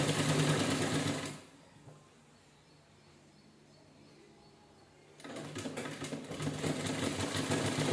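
A sewing machine stitches a puff-style blouse sleeve with a loud, fast, steady mechanical whir. It pauses into near quiet for a few seconds, then starts up again close by.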